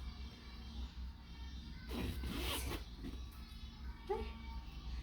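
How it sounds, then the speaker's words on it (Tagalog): A broken zipper on a newly delivered online-bought pillow is tugged in a short rasping burst, fairly faint, with quiet background noise and a small squeak afterward. "Ay, sira yung zipper niya."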